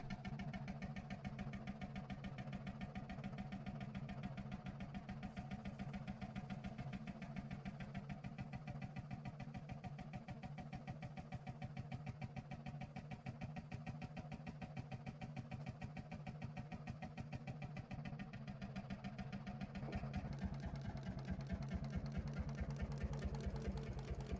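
A vintage Fairbanks Morse 32E diesel engine with a large flywheel runs steadily, its rapid, even compression cycles thumping continuously at close range with a constant mechanical drone and no talk.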